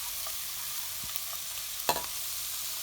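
Vegetables with salt and oregano are stirred in a hot pan under a steady sizzle, with a few soft scrapes and one clearer clatter of the utensil against the pan.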